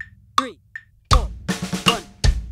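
A few sparse drum hits, then a quick sixteenth-note-triplet fill of rapid tom and snare strokes tumbling into a crash on beat one, close and loud.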